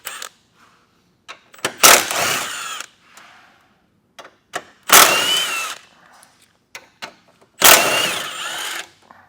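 A power tool whirs in three loud, short bursts with quieter clicks and handling noises between them while bolts are removed on a 2025 Buick Encore GX during a base plate installation, heard up close with no talk.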